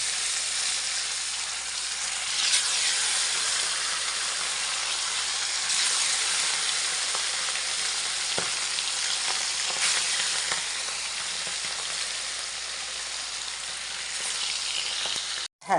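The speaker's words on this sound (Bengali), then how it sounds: "এই যে দেখো তেলটা গরম হয়ে গেছে এখন মাছগুলো ছেড়ে দিচ্ছি" Fish frying in very hot oil, a dense steady sizzle that fills the whole span at close range, with faint stirring clicks now and then and no voices.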